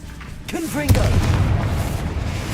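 A Hogwarts Legacy Confringo explosive spell goes off as a single heavy, booming blast with a rumbling tail, right after a brief vocal shout.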